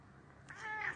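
A pet cat gives a single soft, short meow, faint and close, rising out of quiet room noise.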